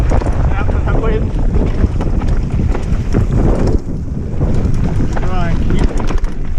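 Heavy wind noise buffets the microphone while mountain biking over rocky trail in Serra da Arrábida, a loud constant roar with bumps and rattles, and a rider speaks over it.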